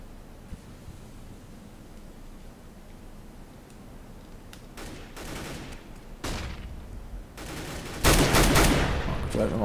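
M4 rifle shots in a professional Counter-Strike match on de_cache start as faint sporadic pops, then turn into sharp close bursts and a loud sustained spray near the end over background game ambience, with a commentator's voice faintly present.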